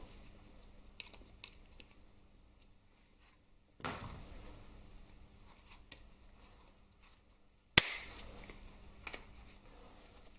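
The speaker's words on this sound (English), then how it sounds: "it's quicker with the snips. Just clip them in half." Snips clip hose clamps in half during a Harley-Davidson Twin Cam 88 engine strip-down, giving a couple of sharp metallic snaps and clicks amid quiet handling noise in a workshop.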